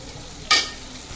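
Spice tempering for bottle gourd curry hitting hot oil, a single sharp sizzle that bursts up loud and close, then trails off quickly.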